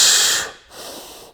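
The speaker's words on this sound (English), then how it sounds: "that's the reason why I let you exhale with the hissing" A person doing a breathwork exercise lets out a strong hissing exhale through the teeth, loud and close, followed by a second, softer hiss after a short pause.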